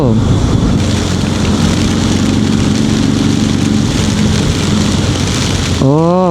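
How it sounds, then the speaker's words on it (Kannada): Heavy rain falls in a steady, loud, unbroken hiss, and a voice briefly sounds at the start and again at the end. "ಬಟ್ ಸ್ಟಿಲ್ ಬನ್ನಿ ಮಳೆನ ಸ್ವಲ್ಪ ಎಂಜಾಯ್ ಮಾಡೋಣ."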